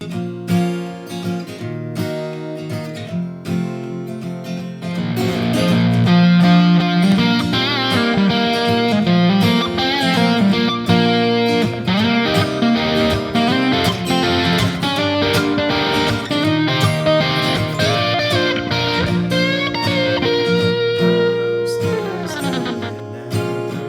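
A distorted electric guitar plays a fast, melodic lead solo from a song over a full band backing, loud and sustained throughout.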